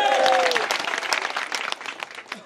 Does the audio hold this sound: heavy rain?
no